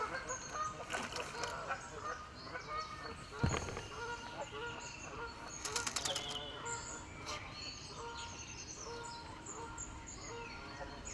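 Canada geese honk repeatedly amid a busy outdoor scene, with bursts of wing flapping and people talking nearby.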